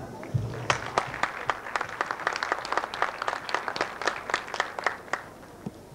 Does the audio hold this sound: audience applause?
yes